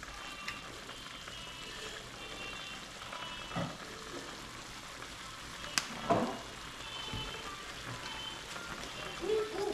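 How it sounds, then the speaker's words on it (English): Barbecue sauce sizzling in a pot with cow foot, a steady soft frying hiss with a few louder clinks and stirring bumps partway through. "I'm adding a little barbecue sauce to it to give it a nice little taste."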